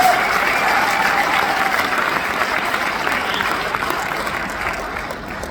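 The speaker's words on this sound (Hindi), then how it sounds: "तो एक बार अपने लिए जोरदार तालियां बजा दीजिए" An audience breaks into loud, sustained applause that slowly tapers off over several seconds, many hands clapping together with no voices standing out.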